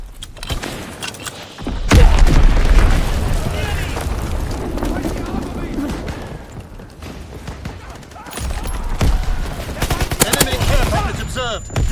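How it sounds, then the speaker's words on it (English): Call of Duty multiplayer battle with bomb explosions and gunfire: a heavy blast lands near two seconds, then dense continuous rattling shots and booms fill the scene, with bursts of rapid fire again toward the end; game voices occasionally cut through. "Enemy bomb incoming! Get to cover!"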